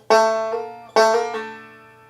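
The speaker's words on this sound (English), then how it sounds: "Then we have this hammer-on pull-off combo." A plucked banjo phrase: two bright thumb-picked attacks, each followed by a quick slurred second note from a hammer-on and pull-off, ringing out cleanly with nothing else playing.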